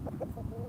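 Backyard hens cluck softly and close by, making a few short, low murmuring clucks in quick succession.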